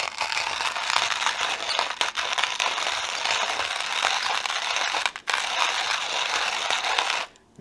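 A Mueller Perfect Grind manual coffee grinder being cranked by hand, its burrs crushing coffee beans in a steady, dense gritty crunch that continues almost without pause, then stops abruptly near the end.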